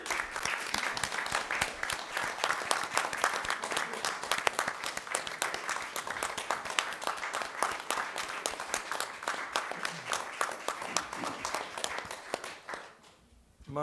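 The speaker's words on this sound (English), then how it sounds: "I want to give them a round of applause" Sustained applause from an audience at a board meeting, dense steady clapping for about twelve seconds before quickly tapering off at the end.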